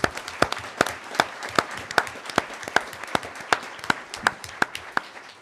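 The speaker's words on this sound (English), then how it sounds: "So give them a round of applause for that" A modest audience at a Board of Education meeting applauds middle school honor students, the individual claps sharp and distinct in an uneven but continuous patter, fairly close, with no voices over it.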